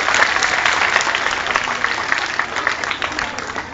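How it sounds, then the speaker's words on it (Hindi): Steady, loud clapping from a school audience at a Teachers' Day program in an Urdu high school hall, welcoming staff members, continuing evenly throughout without speech. "आप भी जोरदार तालियां बजाते रहिए।"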